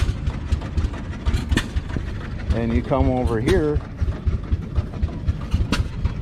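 A gas-diesel engine at a threshing show runs with a steady, rhythmic chugging thump, close and loud, while someone talks over it.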